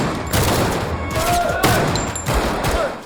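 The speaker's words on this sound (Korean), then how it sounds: "그리고 드디어 사격 훈련까지 마치게 됩니다." Gunfire during rifle shooting training for recruits in a Korean drama, with a few sharp reports spread over a few seconds under score and ambient sound.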